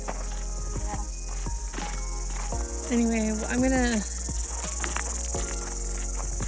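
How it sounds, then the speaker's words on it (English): Cicadas in New Zealand keep up a steady high insect drone through the whole stretch, with people talking and a bright voice rising briefly over it. "I just want to see one of the cicadas."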